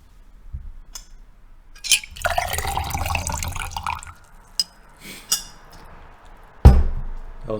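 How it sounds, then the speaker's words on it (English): Water pours in short bursts with splashy, clinking filling sounds, fairly close, separated by quiet gaps and a sharp knock near the end. "That was water pouring,"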